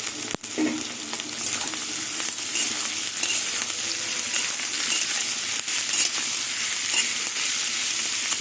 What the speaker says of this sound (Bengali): এবার আলু আর পেঁয়াজ কিছুক্ষণ ভাজবো